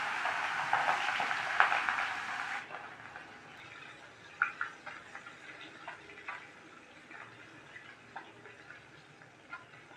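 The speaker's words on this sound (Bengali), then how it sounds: "এবার ট্যাংরা মাছগুলো এক এক করে আমি এতে দিয়ে ভেজে নেব" Tangra fish dropped one by one into hot oil, a loud hiss at first that drops away, followed by scattered spitting and crackling bursts, close and without talk.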